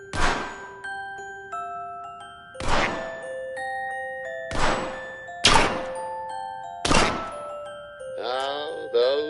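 Video game target shooting: five regularly spaced shots or hits ring out about every 1.5 seconds, each leaving a sustained chime-like tone, ending in a rapid warbling jingle, with no talk.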